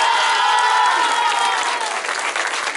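Loud, dense applause from a crowd at a municipal inauguration ceremony for the Tultitlán mayor, sustained and steady, with a faint cheer in the first second.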